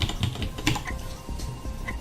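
Quick, uneven typing on a computer keyboard, a short flurry of close, soft key taps while entering a timing value in processor exercise code.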